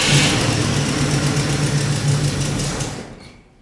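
A Chevy truck engine that runs poorly cranks and catches, settling into a loud, rough idle close by for a few seconds before cutting off abruptly.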